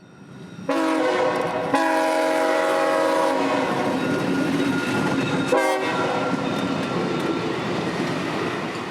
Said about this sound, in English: this track geometry train is a guaranteed visitor to every line CSX owns